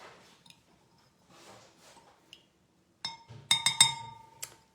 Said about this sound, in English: I'm going to just stir that until the sugar is dissolved